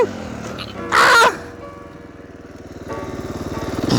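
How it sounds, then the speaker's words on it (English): Supermoto motorcycle engine during a wheelie, a sharp loud rev burst followed by a lower uneven idle that climbs again in a rising throttle run toward the end. "Roll a little bit, clutch, rev it up, clutch it up, And then making a wheelie"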